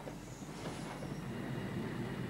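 A heavy coal freight train from 1979 rumbles steadily past with a dense, continuous roar of rolling wheels and faint metallic squeal, loud and close throughout.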